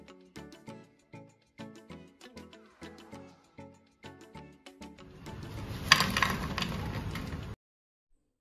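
Crispy fried wheat flour snack being bitten and crunched, a run of sharp, close crackling bites in a steady rhythm, then a denser burst of crunching noise near the end.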